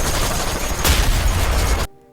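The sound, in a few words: gunfire shooting sea mines in Godzilla Minus One film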